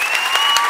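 Audience clapping at a Malayalam stage show, a short dense burst of many hands applauding together, fairly loud and steady with a few sharper peaks.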